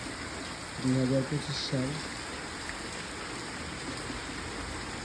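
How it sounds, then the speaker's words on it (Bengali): Steady monsoon rain falls outside in a soft, even hiss that runs through the whole stretch, with a brief spoken phrase near the start. "এখন বাইরে থেকে বৃষ্টি হচ্ছে রিমঝিম, সারাদিন ব্যাপী বৃষ্টি।"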